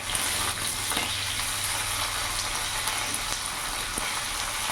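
Tengra fish sizzles and crackles steadily in hot oil, a continuous frying hiss close up with no talking.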